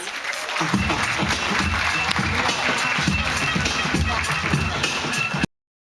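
Audience applause after a poetry reading at a gathering, a dense, continuous wash of clapping from a crowd that runs for several seconds before cutting off abruptly, with voices mixed in.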